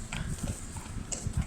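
A horse pulling a horse-drawn bar carriage along a street in Obihiro, Hokkaido, its hooves giving soft, low clip-clop thuds against steady outdoor background noise.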